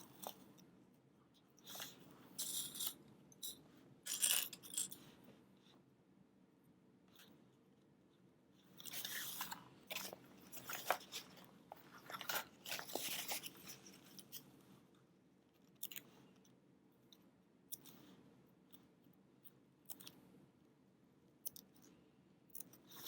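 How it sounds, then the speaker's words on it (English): Scissors snip the curved seam allowance of fabric for a convertible bag, giving soft, close, scattered little cuts in short bursts with quiet pauses between them. "I'm just going to go with like 3/8, little 3/8 snips"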